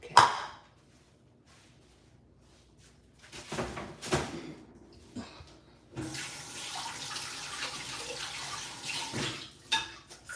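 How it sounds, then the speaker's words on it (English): Tap water running into a sink as hands are washed during catfish preparation in a home kitchen, starting quietly and swelling into a steady, fuller splash with brief knocks and clatters, no talking. "Sometimes I OD on hand washing, y'all"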